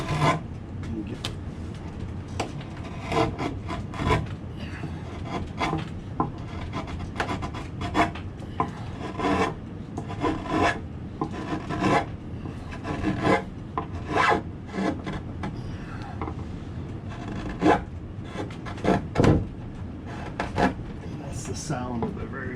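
A very sharp number 1 chisel carves a 2-inch-thick block while roughing out the flags of a large Bellamy eagle, a close, continuous run of rasping, scraping cuts and short bursts, with some speech mixed in.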